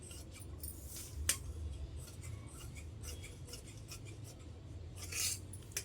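Scissors cut through fabric in a few quiet, close snips and crisp blade clicks, with faint rustling between cuts and no talk.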